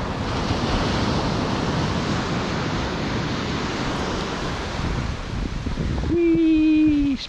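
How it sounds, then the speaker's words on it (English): Waves crash and wash steadily over a shingle beach in winter, a broad continuous roar of surf with wind buffeting the microphone, swelling louder near the end where a faint whistle-like tone appears. "So I just got to time the waves."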